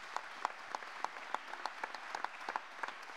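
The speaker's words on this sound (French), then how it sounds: "On peut vous applaudir très fort." Sparse applause at a café opening event, scattered claps with irregular rhythm at moderate distance, fairly quiet and without voices.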